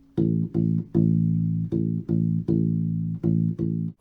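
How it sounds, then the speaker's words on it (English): A U-Bass, a small bass ukulele, plays a sixteenth-note rhythm exercise alone: a series of short, round, low plucked notes in grouped bursts with brief rests between, close and clear with no voice. "I'm gonna play it 1 time without me counting just so that you can hear what that's like"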